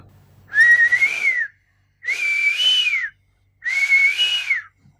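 A mimicry artist whistles a koel's call three times, each a clear sustained whistle about a second long, separated by short silences and loud and close.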